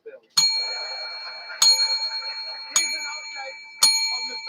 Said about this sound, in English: 10 bell rings, so hit that bell 10 times